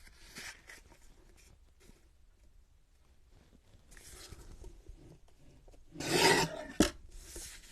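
Paper trimmed for a vintage Paris-themed journal spread on the floor, soft scraping and rasping cuts in a few scattered passes, quiet overall, with one louder rustling stretch and a brief sharp tap near the end.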